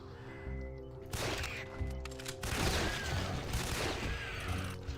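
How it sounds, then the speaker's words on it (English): Pistol shots in the Doom total conversion Aliens Eradication, a rapid run of sharp game gunfire that builds into a dense volley, close and fairly loud over game ambience. "I'm impressed by how effective the pistols are in this game."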